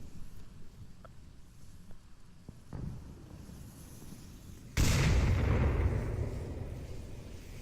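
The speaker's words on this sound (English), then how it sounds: "We see another 4Q nade careening over towards Nalco and Verds." A grenade detonates in the VR shooter Onward: a few faint distant pops and a thud give way to one loud, close, broadband blast that rumbles and slowly fades. No speech is heard.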